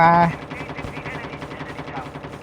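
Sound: gunfire in a video game

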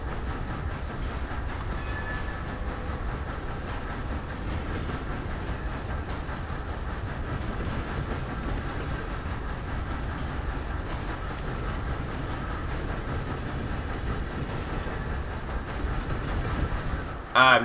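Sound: train running in video game Red Dead Online

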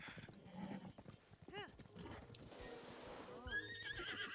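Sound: horse neighing in Zelda Breath of the Wild video game

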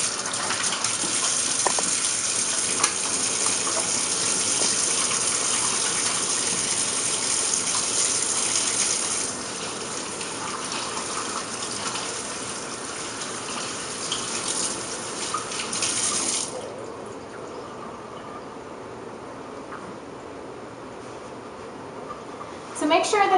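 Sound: running tap water while washing hands with soap

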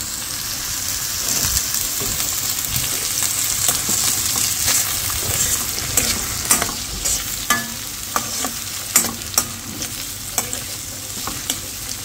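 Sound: oil added to pan, sizzling and frying

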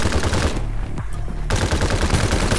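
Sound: gunfire in the video game Farlight 84

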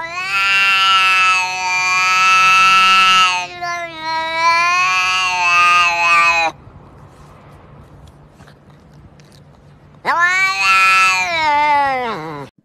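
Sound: cat screaming

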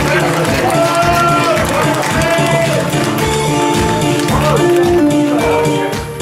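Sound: audience applause at association meeting

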